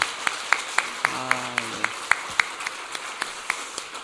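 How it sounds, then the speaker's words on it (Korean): A church congregation claps in an even, quick rhythm, the sharp claps spaced regularly and fairly soft, with a brief murmur of voice partway through. "우리 박수로 격려하겠습니다"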